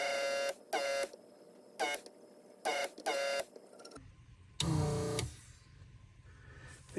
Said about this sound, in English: I've got this instead, which is a desoldering gun. It heats it up, heats up the solder, and also sucks out the solder